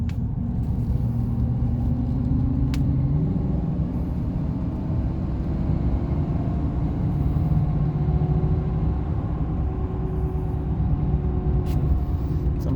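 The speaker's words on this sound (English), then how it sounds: "You know, it's a big truck. Sounds like a truck." A Chevrolet Silverado CNG pickup truck drives along with a steady, close, low engine and road rumble that continues unbroken, with a few faint clicks over it.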